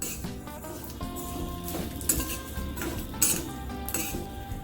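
Vermicelli (sewai) is roasted in a little ghee over a very low flame, with a spoon scraping and clinking against the pan in irregular strokes and a faint sizzle, all under background music.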